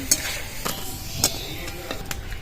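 Raw potato chips frying in hot oil: a constant bubbling sizzle with a few sharp scrapes and taps of a utensil stirring in the pan, close up and with no voices.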